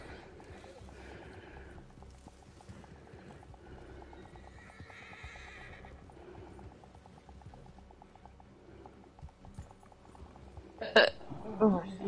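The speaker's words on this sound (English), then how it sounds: "It takes a sec for your horse to come back." Horse hooves clip-clop and a horse whinnies in a Wild West video game, a steady patter of steps under low background sound, followed near the end by a sudden loud, close neigh.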